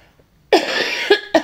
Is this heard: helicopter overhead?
no